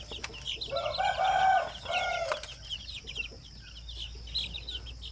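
Month-old pure Sampen native chicken chicks cheep and peep in a close, busy cluster, with a louder burst of calls near the start over soft background noise.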